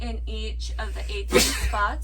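A single sharp sneeze bursts out midway through a head-to-toe bedside assessment, loud and close, with a person talking just before it.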